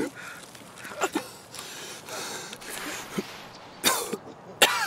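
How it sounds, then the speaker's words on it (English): Several people coughing and clearing their throats during an online game session, with scattered sharp coughs, some close and loud, others fainter, over a low background murmur. "Everybody is fucking coughing."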